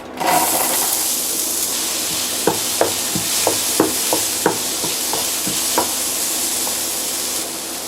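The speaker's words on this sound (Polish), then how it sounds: "rozgrzyj olej i przesmaż cebulę" Onion frying in hot oil in a home kitchen, a steady close sizzle with a string of sharp clicks and taps of a utensil stirring against the pan, no voices.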